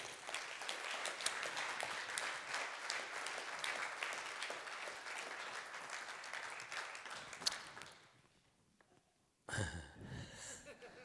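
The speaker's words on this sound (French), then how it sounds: "On peut l'applaudir." Applause from a crowd at a public gathering, a full sustained clatter of clapping that fades out near the end, followed by a short burst of noise.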